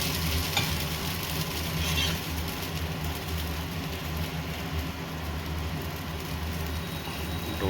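Dosa batter sizzles steadily on a hot iron chapati tava in a home kitchen, a dense continuous frying hiss held close and fairly even throughout, with no talk over it.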